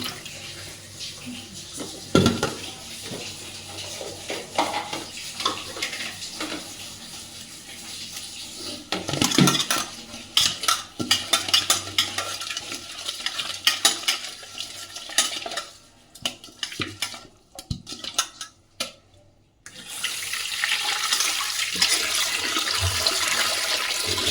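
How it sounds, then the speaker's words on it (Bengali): Fish being washed with salt in water in a home kitchen: prolonged splashing, sloshing and rubbing close by, with uneven bursts and a brief lull before the water sounds resume strongly, and no speech over it. "লবণ দিয়ে আমি মাছটা ধুবো ভালো করে"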